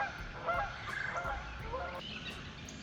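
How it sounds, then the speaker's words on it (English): Several geese honk repeatedly at moderate distance beside a creek in spring, their calls overlapping against a low outdoor background, with no one speaking. "Oh no, we got geese."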